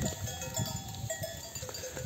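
Lambs and sheep at a highland pasture bleating on and off, muffled and fairly close, mixed with rustling and low animal movement noise throughout.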